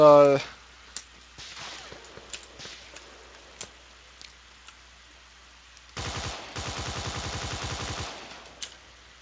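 Gunfire in a military video game: a burst of rapid automatic shots rings out alongside scattered single reports, fairly loud over a low steady hum.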